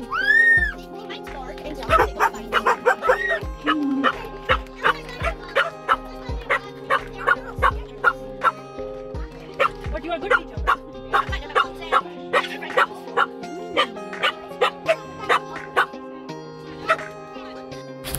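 Several dogs bark at a national dog show, with sharp yips and woofs coming in steady irregular bursts, some near and some farther off, while someone talks and coos over the barking.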